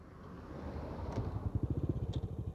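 A Honda Astrea underbone motorcycle engine starts and settles into a quiet, fast, evenly pulsing idle chug.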